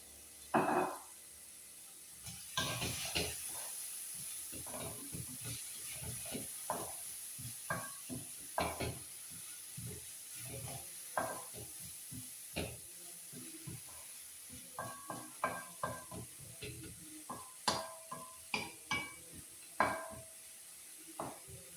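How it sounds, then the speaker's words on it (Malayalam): Bitter gourd stir-fry sizzles in coconut oil in a pan, a soft steady hiss broken by frequent crackles and sharp scraping knocks from stirring, with no voices. "നമ്മൾ കുറച്ച് വെളിച്ചെണ്ണ അതിലേക്ക് ഒഴിച്ചു കൊടുക്കുകയാണ്"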